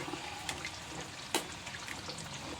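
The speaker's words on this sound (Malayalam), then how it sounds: "വെള്ളമൊഴിച്ച് വേവിക്കാൻ വയ്ക്കാം" Water pours into a cooking pot of koorkka (Chinese potato) set to boil, a soft, faint gurgling flow with a couple of small splashes.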